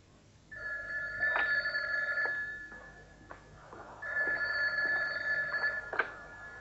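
An old-style telephone bell rings in a police station, two long loud rings separated by a short pause, fairly close and with no talking.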